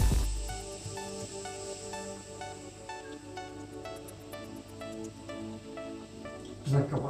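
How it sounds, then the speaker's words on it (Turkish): Soda water added to a chicken batter for fried mussel-style chicken fizzes with a steady, soft hiss and faint crackle, close and quiet throughout, with a small clatter near the end. "Bir şişe de sodamızı ekliyoruz."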